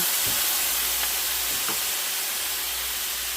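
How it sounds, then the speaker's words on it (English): Food sizzles in a hot skillet, a steady, loud broadband hiss that stays even throughout, with a couple of faint clicks from stirring and no talking. "the skillet was kind of hot, so sizzling"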